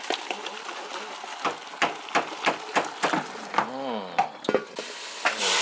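Quail poured into a hot pan for a Thai laab and spicy soup dish, giving a series of sharp clattering hits and stirring scrapes over a steady sizzling hiss, with a brief warbling tone partway through.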